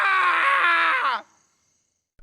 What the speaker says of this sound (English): Ben screams in frustration